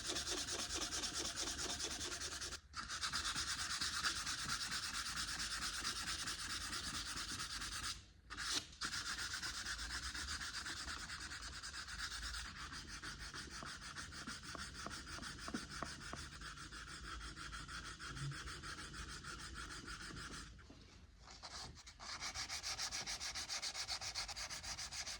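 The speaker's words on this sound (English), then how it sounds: "I'm sanding it smooth with sandpaper." Steady, continuous rasping of sandpaper rubbed back and forth over wood filler on a 19th-century mahogany tea caddy, close and loud, with a few brief pauses between passes.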